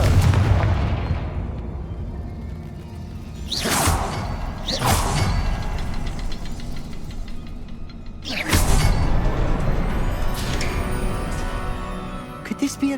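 A Confringo fire blast spell in Hogwarts Legacy: sharp whooshing bursts and blasts, two close together and then a larger one, over a continuous rumbling game soundscape, with speech in places.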